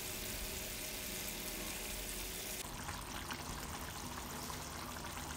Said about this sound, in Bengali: এক এক করে আমি এর মধ্যে মাছগুলো দিয়ে দিচ্ছি।